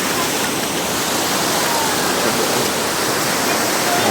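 Cold mountain spring water from Mount Banahaw pours into a resort swimming pool, a loud, dense, steady rushing hiss that continues without a break.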